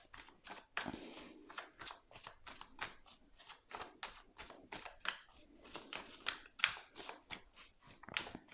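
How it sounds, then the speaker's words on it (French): Cards from a Dixit deck are handled and shuffled in a rapid series of crisp papery flicks and riffles, close and fairly quiet, with no voices. "je vais prendre une carte du Dixit"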